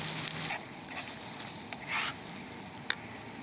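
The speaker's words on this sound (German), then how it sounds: "Also jetzt kommt die Soße dazu. Ich habe jetzt so eine Pfannen-Sahnesoße" Pan cream sauce poured into a hot pan of schnitzel and spätzle sizzles loudly at first, then settles into a quieter fry with a few stirring scrapes and clicks.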